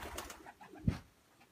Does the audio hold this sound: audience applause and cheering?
no